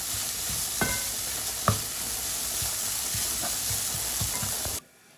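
A spiced garam masala mixture sizzles and fries steadily in a pan while being stirred, with a few scraping clicks of the utensil over the constant hiss, ending abruptly.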